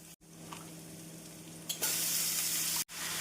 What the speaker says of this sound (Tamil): நம் கத்திரிக்காய் சேர்த்து மீடியம் ஃப்ளேமில் 1 நிமிடம் வதக்க வேண்டும்